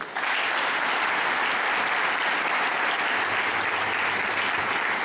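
An acclamation at a church dedication ceremony at PK4, where a congregation claps together in a dense, sustained wash of applause. It stays loud and even for several seconds, and no voice breaks through.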